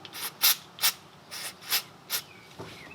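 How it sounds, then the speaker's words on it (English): Brake cleaner sprays in short hissing bursts over front brake parts of a 2015 Toyota Highlander, roughly seven evenly spaced spurts across a few seconds, close to the microphone over a low background hum. "to help cleaning, use some brake cleaner."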